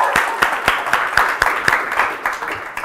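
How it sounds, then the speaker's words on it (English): A hotel function-room audience at a live show claps in a loose, sparse patter with distinct individual slaps, fairly close and moderately loud, with no talking over it. "Come on, you're allowed to clap."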